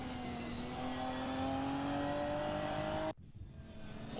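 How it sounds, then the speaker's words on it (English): Race cars at the Nürburgring, an engine whine rising steadily in pitch as a car accelerates past, then cutting off sharply into a rougher, quieter rumble. "the sound of these cars is amazing"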